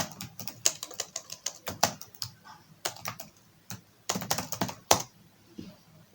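Someone types a search on a computer keyboard, a close, quick patter of keystrokes in uneven bursts with short pauses between them.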